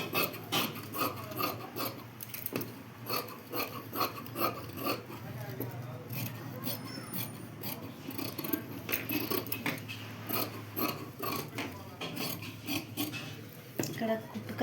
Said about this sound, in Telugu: కటింగ్ అయితే చేస్తున్నాను.